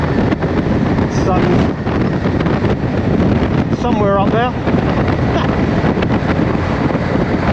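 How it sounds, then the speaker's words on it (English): Heavy wind roar buffets a helmet-mounted microphone while riding an Indian Roadmaster motorcycle on a chilly, gusty day, a constant loud rush throughout with a rider briefly speaking over it. "it's quite windy and chilly."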